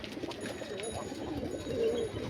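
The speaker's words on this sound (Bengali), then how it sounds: "দেশি পায়রা না, এটা পাঞ্জাবি মালবাহী আছে।" A large Punjabi Malwai pigeon gives soft, low cooing, faint and close, with no talk.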